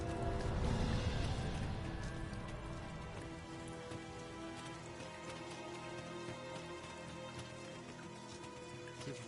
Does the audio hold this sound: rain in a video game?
yes